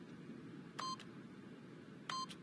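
Two short electronic keypad beeps from the PIN pad in the video game The Stanley Parable, each a quick pair of tones about a second apart over a faint hum.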